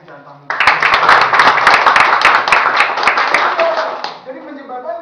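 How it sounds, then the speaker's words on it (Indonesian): A crowd at a marketing seminar breaks into loud, fast rhythmic clapping after a short lead-in, sustained for several seconds before fading out, with a voice resuming faintly at the end. "Tepuk tangannya jangan tanggung."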